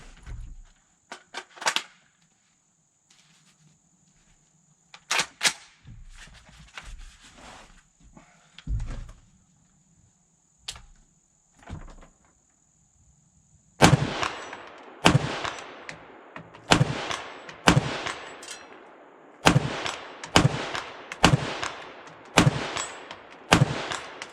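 Steyr AUG M3 A1 5.56mm rifle firing cheap Russian .223 at a 100-yard steel plate outdoors: a few scattered shots at first, then a quick series of about ten sharp, loud reports, each with a faint ringing hit behind it.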